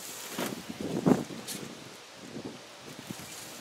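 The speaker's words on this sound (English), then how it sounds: "Very windy out." Gusty wind blowing through an outdoor vegetable garden during in-ground tomato planting, a soft broadband rush with a few brief louder gusts and rustles, steady and moderately faint throughout.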